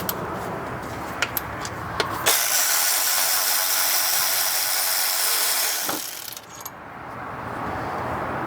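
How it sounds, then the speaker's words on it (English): Ratchet wrench clicking as the two 10mm bolts come off the thermostat housing of a Ford Crown Victoria, with steady close mechanical ratcheting and a few small metallic clinks, no talking. "next step is to take off the two 10mm bolts on the thermostat housing"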